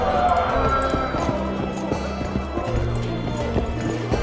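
Hooves of Roach, the horse in The Witcher 2 video game, clip-clop in a steady galloping rhythm, fairly close and moving off, with a voice speaking over the start.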